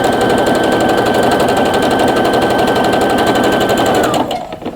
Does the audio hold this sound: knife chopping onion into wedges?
no